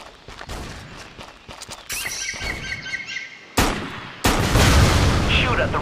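Gunfire and exploding red barrels in the shooter Terrorist Takedown: War in Colombia: scattered sharp shots, then two loud sudden blasts that leave a dense roaring wash, with faint bird chirps in the background.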